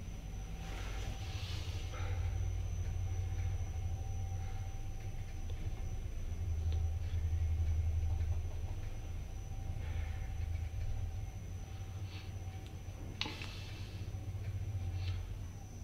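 A lift in a multi-storey car park runs with a continuous low mechanical rumble and drone, steady throughout with slight swells, plus a faint high whine and a soft clunk near the end.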